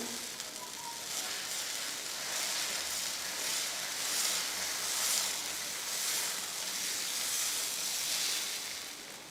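Dosa batter poured and spread over a hot pan on a low flame gives a steady hiss of sizzling that swells and eases in slow waves, close and fairly quiet, with no talk.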